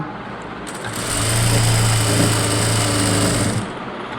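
A sewing machine stitches a blouse, a steady mechanical whir that starts up, runs continuously for a few seconds close by, and then stops, with no talking.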